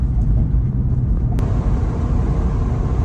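A Tesla Model Y electric car pulls away down a highway, heard from inside as a steady low road rumble and tire noise with a brief click partway through.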